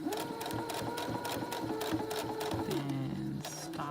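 A sewing machine runs steadily and close by, stitching along to meet existing top stitching, its motor and needle a continuous whirring rattle that shifts pitch slightly near the end.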